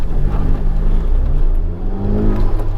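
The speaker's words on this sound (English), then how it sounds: "A little bit of wheel spin, a little bit more wheel spin." A Honda Civic Type R accelerates hard with its wheels spinning, the engine roaring loud and close without a break as it pulls through the gears.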